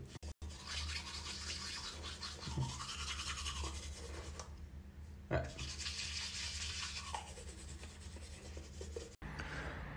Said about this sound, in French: Et là tout simplement j'ai juste à me laver les dents.